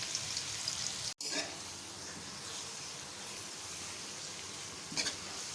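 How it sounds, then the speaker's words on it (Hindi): Onions frying in hot oil in a pan for masala bhindi give a steady, close sizzle that runs throughout, with one brief dropout and a small flare of crackle near the end. "प्याज जो है वो थोड़ा थोड़ा से फ्राई होना शुरू हो गए हैं"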